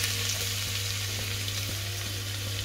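Chopped garlic going into hot oil with whole spices like cardamom and cloves for a mutton curry, a steady close sizzle with a low constant hum beneath and a few faint taps.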